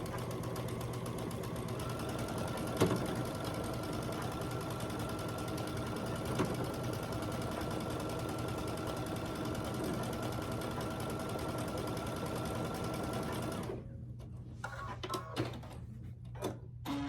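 Sewing machine stitching a seam on a quilt block, a steady rapid mechanical hum and needle clatter running continuously, stopping abruptly near the end, followed by a few faint handling clicks.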